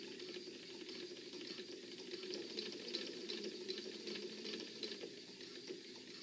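Domestic sewing machine stitching an inset zipper pocket, a quiet, even mechanical whir with a fine rapid clatter of the needle running steadily throughout, close by with no talking.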